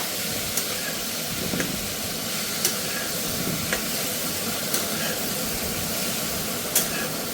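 Boiled chickpeas with salt and turmeric frying in a pan give a steady, fairly quiet sizzle and hiss, broken by a few brief stirring scrapes, with no talking.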